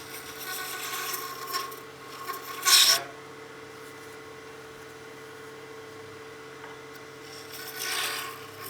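A lathe turns an acrylic resin and 3D-printed honeycomb pen blank, its motor humming low and steady beneath a few brief rasping scrapes of the tool, with one sharp burst near the start and another softer one near the end.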